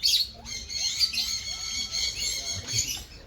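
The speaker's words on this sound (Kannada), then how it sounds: "ಎಲ್ಲನೂ ಪಕ್ಷಿಗಳೆಲ್ಲ ಸಾಕೊಂಡಿದ್ದಾರೆ." Pet birds kept at a house squawk and chirp continuously at close range, a dense overlapping chorus of shrill calls with no talk.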